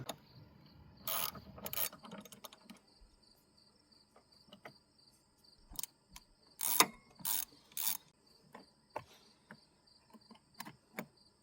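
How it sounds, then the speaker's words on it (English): A 10mm socket on a ratchet loosens the negative battery terminal on a Chevy Cruze, with short bursts of close, sharp ratcheting clicks separated by quieter pauses and no talking. "To do this, you're going to need a 10mm socket and a ratchet."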